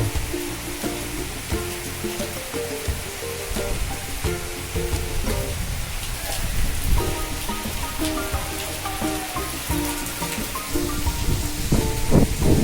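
Heavy, steady rain pours down around a tourist lodge at Kaikhali, a dense, even hiss that holds throughout with faint tonal sounds beneath.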